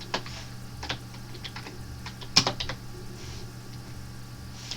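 Website code typed on a computer keyboard, with scattered clicky keystrokes in short irregular bursts and one sharper tap, close and alone over a quiet room hum.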